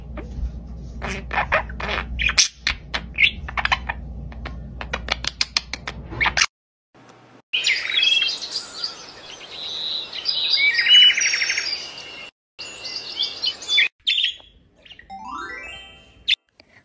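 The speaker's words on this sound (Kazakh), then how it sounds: "Бұл тоты құс." A parrot calling in a series of sharp chirps and squawks, with bursts of rapid repeated notes, some clear and close, separated by brief silences.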